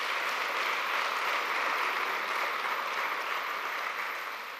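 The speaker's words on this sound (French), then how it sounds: "je voudrais qu'on les applaudisse très très fort" Continuous applause from an audience for the donors who have supported a foundation for twenty years: a thick, even wash of clapping that stays loud and unbroken throughout, tapering a little at the close.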